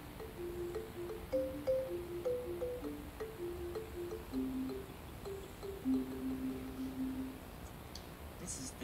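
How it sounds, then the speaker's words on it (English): A homemade wooden tree bone xylophone plays a steady run of mellow, pitched wooden notes, rising and falling over a constant hiss. "This is the tree bone xylophone."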